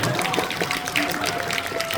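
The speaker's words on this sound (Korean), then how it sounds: "계속 박수 한번 쳐주세요" Audience applause during a stage greeting for the film Amazon Bullseye at Megabox COEX, a steady wash of clapping that runs continuously over a faint sustained tone, with no break across the moment.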